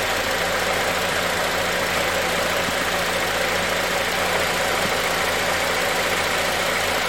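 A 2004 Honda Element's engine idles at operating temperature, a steady loud mechanical hum with a constant low throb and faint ticking, unchanging throughout with no talking.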